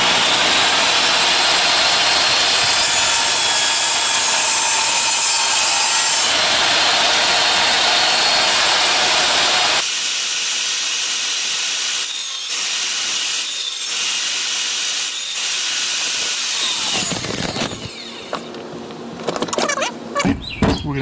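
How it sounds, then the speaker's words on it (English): A table saw cuts through purpleheart and padauk hardwood, a loud continuous whining rasp that shifts pitch partway through, then breaks up into shorter cutting bursts and winds down near the end, with no speech. "So we pass it through the table saw nice and even, and we get a nice cut."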